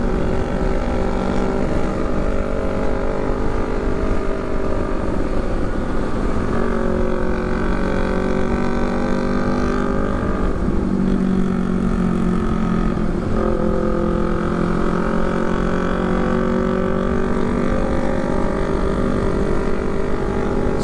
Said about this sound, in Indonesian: Suara knalpotnya R9